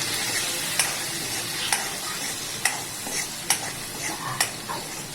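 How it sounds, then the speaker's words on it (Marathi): Onion masala with turmeric stirred in a sizzling pan, a steady fry hiss broken by a sharp scrape of the spoon about every second. "हळद पण टाकून घेतो चलचून घेऊया"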